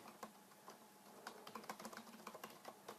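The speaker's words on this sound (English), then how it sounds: "type in our text" Typing blog post text on a computer keyboard, a quiet run of quick, irregular key clicks close to the microphone with no talking.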